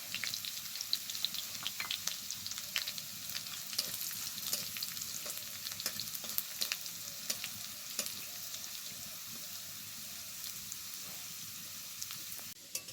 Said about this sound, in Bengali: এবার দিয়ে দেবো ফোড়নে দেবো গোটা গরম মশলা, শুকনো লঙ্কা আর গোটা জিরে